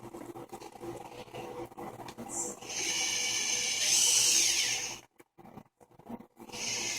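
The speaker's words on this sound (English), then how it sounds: "Then I'm going to take a cup burr, which is a concave burr," A small rotary tool spins a concave cup burr against a tip, a thin high whine rising partway through and cutting off, with quieter handling noise around it and a short burst again at the end.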